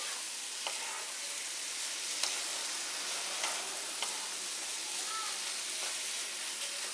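Soya chunks fry with spices in a pan, making a constant soft sizzle with occasional light clicks of stirring; close, steady and without speech.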